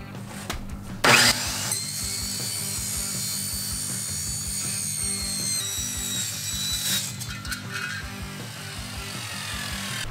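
A power saw cuts two 4-inch pieces for a transmission cooler mount on a twin-turbo LSX Fox-body build, giving a steady close whine over rhythmic low chatter, with a brief louder burst near the start.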